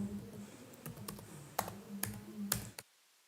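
Keys clack on a computer keyboard while code is typed, a loose run of close, moderately loud taps with a few sharper strokes, ending abruptly in silence.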